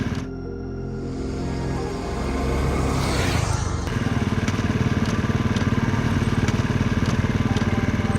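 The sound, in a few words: motorcycle engine running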